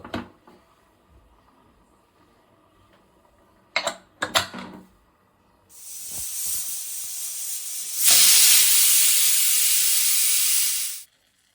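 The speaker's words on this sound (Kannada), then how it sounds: "ಲಿಡ್ ಕ್ಲೋಸ್ ಮಾಡಿ 2 ವಿಸಿಲ್ ಮಾಡಿಸೋಣ" A pressure cooker making vegetable pulav gives a few faint clatters, then a hiss of escaping steam that builds with a thin, high whistle into a loud, sustained blast for about three seconds before stopping abruptly.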